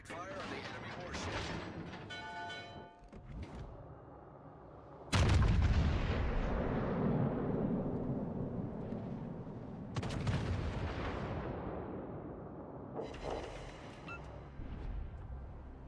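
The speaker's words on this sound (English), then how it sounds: "Concentrate fire on the enemy warship." Naval warship guns firing in a video game: heavy booming salvos with long rumbling tails, several blasts spaced seconds apart, loud and close, with a voice speaking over the opening.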